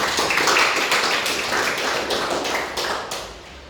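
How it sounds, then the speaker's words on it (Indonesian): A classroom of students applauds a fellow student, producing a dense, fairly loud burst of clapping that lasts several seconds and then gradually tapers off, with no speech over it. "Aplaus untuk Rizky."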